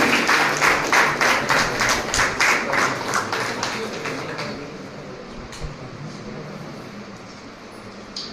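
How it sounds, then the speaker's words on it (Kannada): An audience at a biology workshop applauds in rhythmic, loud clapping for about four seconds, then the clapping fades into a softer, scattered patter and room noise. "ಉಪನ್ಯಾಸಕರಿಂದ ಪ್ರೋತ್ಸಾಹಪೂರ್ವಕ ಚಪ್ಪಾಳೆ ನಿರೀಕ್ಷಿಸುತ್ತೇವೆ"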